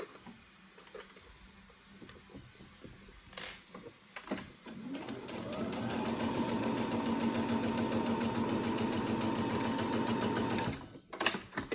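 A sewing machine stitches a fabric face mask, starting after a few soft clicks and handling noises, then running steadily at close range for several seconds before stopping.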